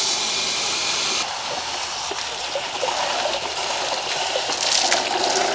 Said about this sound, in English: where the water is coming out from those jets